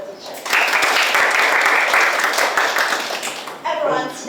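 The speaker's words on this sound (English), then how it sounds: "Clap your hands to welcome the teachers." A school class clapping to welcome visiting teachers in an English lesson, a loud burst of many hands that rises suddenly, holds for several seconds, then tapers off as a voice speaks.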